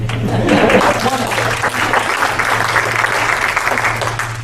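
Audience applause at a patriots group speech: a dense, steady wash of clapping from a sizable crowd, loud and continuous, with a low constant hum beneath.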